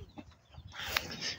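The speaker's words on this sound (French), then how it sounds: "on a la poule Ketawa avec elle a eu 10 poussins." A hen on a small farm clucks softly in a few short, quiet calls that rise into a brighter, louder squawk near the end, with faint background noise.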